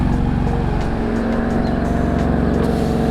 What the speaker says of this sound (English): So now we're gonna go get the keys and then go move the cars.